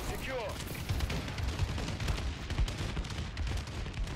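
Bombing-run killstreak in Call of Duty: Advanced Warfare, a dense barrage of rumbling explosions and gunfire in rapid succession, loud and continuous.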